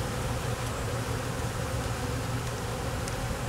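Honeybees stirred up at an opened hive with a vertical split, a steady dense buzzing drone close by, continuous and unbroken with no voices.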